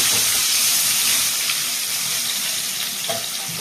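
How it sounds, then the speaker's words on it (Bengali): Loud, continuous sizzling of thick-cut potato chunks frying in hot oil with nigella seeds, a steady crackling hiss with no talking. "আলুটাকে একটু লাল করে ভেজে নেব।"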